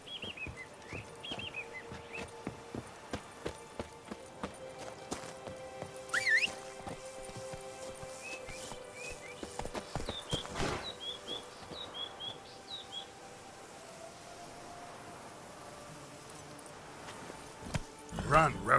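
Roach the horse gallops in The Witcher 3: Blood and Wine, a steady clip-clop of hoofbeats running through the clip with scattered bird chirps and calls in the surroundings.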